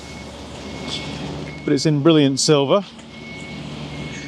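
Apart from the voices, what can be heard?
building site noise with reversing truck beeps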